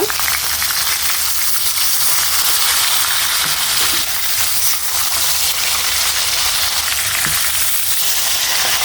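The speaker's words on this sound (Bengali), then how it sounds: "তো আমি এখন মাছগুলো উল্টাই দিব" Pieces of catla fish sizzling and spitting in hot oil in a pan as they are flipped, a loud dense crackle that holds steady throughout with a few faint knocks, no voices.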